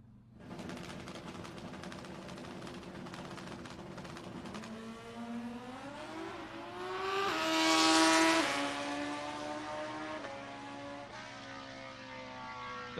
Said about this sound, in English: David Young electing to make a lap here